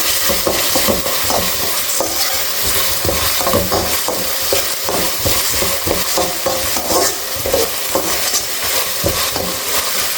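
Spice paste frying in a pan while being stirred steadily, a loud continuous sizzle broken by rhythmic scraping and clinking of a spoon against the pan throughout, no speech.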